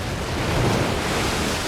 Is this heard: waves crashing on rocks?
yes